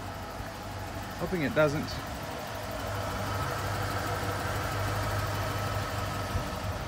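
A car engine with a worn muffler idles as a low, steady rumble close by throughout, and a person speaks briefly near the start.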